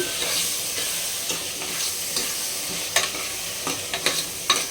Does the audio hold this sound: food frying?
yes